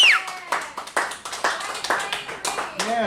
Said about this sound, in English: So give yourselves a hand for coming out tonight.